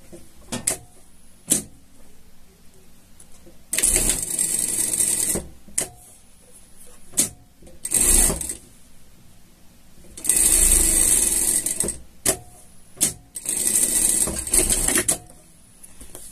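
A sewing machine stitches a seam on a pet behavioral harness, running in three separate rapid whirring bursts of a few seconds each, with quiet pauses and small handling clicks between them.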